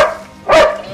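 A trained Belgian Shepherd rescue dog gives a single sharp, loud bark close by, rising abruptly after a quieter stretch of low background hum.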